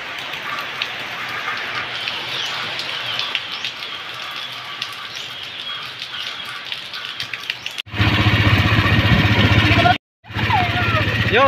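Rain falls steadily in a dense, hissing wash, then grows louder and heavier near the end with a brief cutout; voices can be heard faintly under it.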